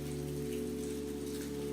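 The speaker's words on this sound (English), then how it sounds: "The rain poured relentlessly" Steady rain falls in a dense, even patter with a soft low hum underneath, quiet and continuous throughout.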